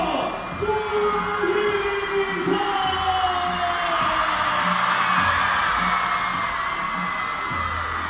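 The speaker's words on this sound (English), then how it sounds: "Just listen to the roar of the crowd." A large crowd at the WTT China Smash 2025 table tennis women's singles match roars and cheers continuously, a loud sustained wash of voices and whoops, with an announcer's voice briefly heard over it as Sun Yingsha is introduced.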